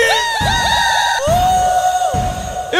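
A crowd at a live outdoor show in Vila dos Cabanos shouts and cheers in loud sustained whoops, with high voices rising in waves over a continuous din.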